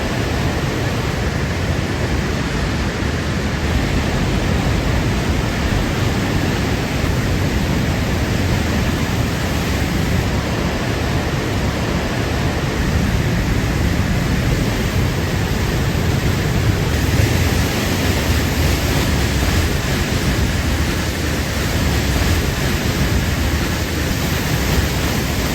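The waterfall at the end of Canyon Creek near Ouray, Colorado, roars as a constant, dense, loud wash of falling water that stays steady and unbroken throughout.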